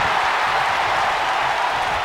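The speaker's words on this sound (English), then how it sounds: "This crowd in Nashville is about to turn all the way up here." A video game wrestling arena crowd in Nashville cheering in a WWE 2K match, a steady, dense roar of applause and crowd noise filling the space throughout without a break.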